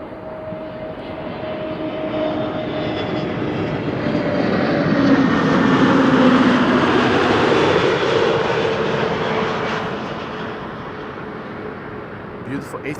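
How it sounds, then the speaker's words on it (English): An easyJet Airbus A320neo from Edinburgh comes in to land at Amsterdam Schiphol, its jet engine roar swelling to a peak midway and then fading. Steady broadband rumble with a faint whine on top, and a voice talks over it. "EasyJet flight 7836 arriving from Edinburgh, A320neo"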